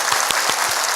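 A church congregation applauding the choir after a hymn, a brief burst of dense clapping from many hands filling the room.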